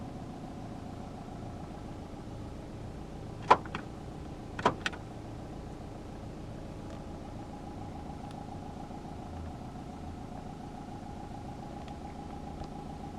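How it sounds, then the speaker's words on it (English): Central locking on a 2015 Nissan Juke 1.5 dCi 110 Acenta Premium engages with a few sharp mechanical clacks in quick succession over a quiet cabin hum, then silence. "Electronic central locking"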